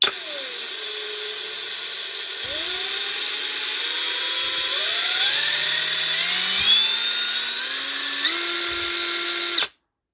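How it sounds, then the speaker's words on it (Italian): A Topshak 21V cordless impact wrench spins up and down, its motor whine rising in pitch as the trigger is squeezed harder, loud and close for about ten seconds before stopping. "quello che vi sto dicendo riguarda anche questo avvitatore, quindi più premerò il tasto più velocemente ruoterà la bussola"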